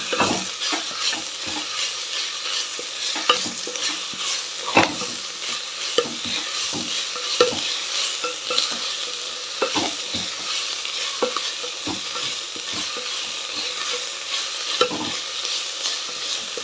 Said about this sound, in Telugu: ఒక సెకండ్ బాగా కలుపుతూ వేపుకోవాలి.